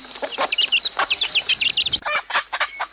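Chickens on a poultry farm cluck in quick, busy bursts, several birds close by calling over one another throughout.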